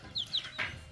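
A chicken chick warming itself by a fire gives three quick high peeping chirps, close and fairly faint against quiet background.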